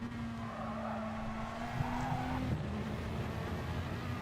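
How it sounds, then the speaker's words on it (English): Race cars skid and squeal during a Gran Turismo touring race at Brands Hatch, a steady engine drone with tire screech as two cars spin off into the grass, no voices. "Just these 2 cars spin off into the grass"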